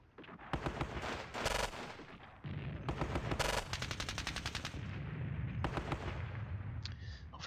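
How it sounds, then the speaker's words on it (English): Bursts of machine gun fire from the Eastern Front wargame Squad Battles Red Victory, rapid rattling volleys repeating over several seconds, loud and close, with faint talk underneath. "This machine gun here."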